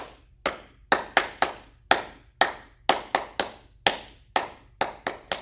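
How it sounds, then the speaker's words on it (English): A group claps hands at a farm-themed library storytime, sharp distinct claps in an uneven rhythm, with clusters and pauses across more than five strikes, loud and close with no talk. "Five claps."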